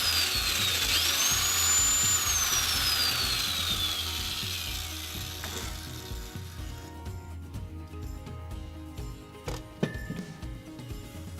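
A hole saw bores through a wooden board from the pre-drilled center hole, a loud whining, grinding drill cut close up that fades into the rattling of the tool and wood settling.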